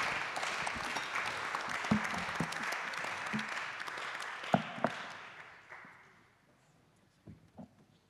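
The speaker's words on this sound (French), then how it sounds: "Voilà, donc on peut applaudir les intervenants." An audience applauds the speakers at an academy of technology awards ceremony: steady hall-wide clapping that thins and fades out after about six seconds, followed by a few scattered late claps.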